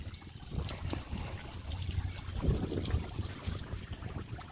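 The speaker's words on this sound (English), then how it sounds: "just the noise of the water trickling around looks really cool" Water trickles through a small man-made garden creek with a river rock bottom and an aerating sprinkler at a mini golf course, a soft, uneven burbling and dribbling heard close by without talk.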